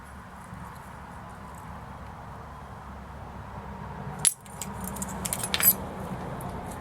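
Keys jangle on a keychain that holds a small fire-starter kit made of cotton balls and petroleum jelly, with a sharp clink partway through and rustling after it, all near and moderately loud with no talk.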